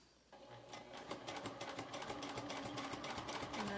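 A sewing machine back stitches along a zipper on a fabric pouch, its needle chattering in a rapid, steady rhythm that builds slightly in loudness, close up with no talking.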